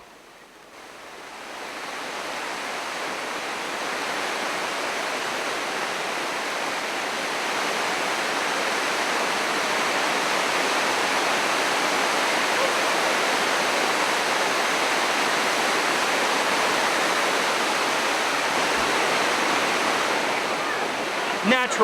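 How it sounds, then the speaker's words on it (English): A waterfall high in the Jamaican mountains roars as a steady, dense wash of rushing water that swells slightly at first and then holds close and loud throughout. "because the water falls from so high up in the mountains, the water was cold"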